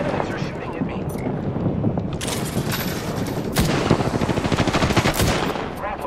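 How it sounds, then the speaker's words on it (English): Rapid automatic enemy gunfire in the battle-royale shooter Apex Legends, loud bursts of close shots rattling over continuous action, with a voice talking over it. "The enemies are shooting at me."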